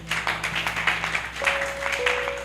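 A church congregation claps in steady rhythm during worship, a loud, even patter of many hands with a sustained tone running underneath.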